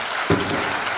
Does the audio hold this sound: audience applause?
yes